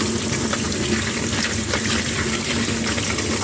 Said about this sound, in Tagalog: hugasan natin yung star anise at saka yung bay leaf